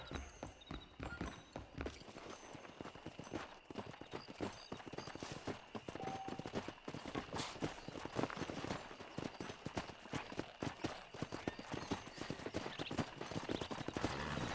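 Steady, rapid clip-clop of a horse's hooves ridden in Red Dead Redemption, the weak starting horse, running continuously and loudly throughout over a constant game ambience.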